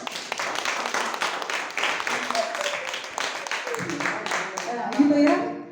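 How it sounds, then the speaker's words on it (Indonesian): A church congregation clapping hands, brisk irregular claps filling the room while voices speak and call out over them. "Tepuk tangan, tepuk tangan."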